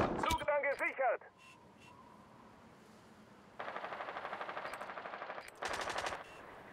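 Bursts of light machine gun fire in the tactical shooter Rainbow Six Siege, with a loud close burst at the start, then a long sustained rattling volley and a second shorter volley near the end.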